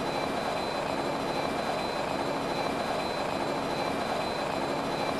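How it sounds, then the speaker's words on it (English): A helicopter engine in the Immersive Vehicles video game gives a constant dense turbine roar with a steady whine, unbroken and even throughout. "try out another helicopter, say"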